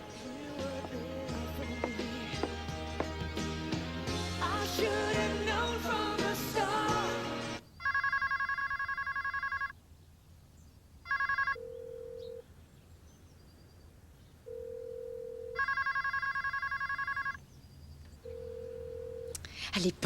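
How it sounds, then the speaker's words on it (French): A telephone rings unanswered, repeated electronic ring bursts alternating with lower single tones and gaps of silence, loud and close, following a stretch of music and speech. "Allez, Paul, décroche."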